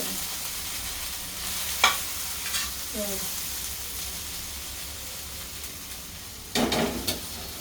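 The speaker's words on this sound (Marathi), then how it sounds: "मी शिजव एकदम बारीक गॅसवरती फ्राय करून घेणार आहे" Okra frying on low heat in a pan gives a steady soft sizzle. A spatula stirs and scrapes it a few times, with a louder clatter of stirring near the end.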